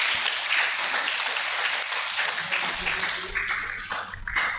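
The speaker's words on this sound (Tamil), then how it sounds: "கைத்தட்டி நம்மை பாராட்டிக்கொள்ளும்." A church congregation applauds at a feast-day gathering, dense steady clapping filling the space throughout, with some rhythmic low thumps joining toward the end.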